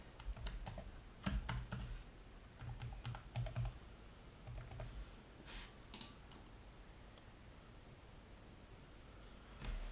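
Keys clatter on a computer keyboard in irregular bursts of typing while a password and email are entered, quiet and close with pauses between runs of keystrokes.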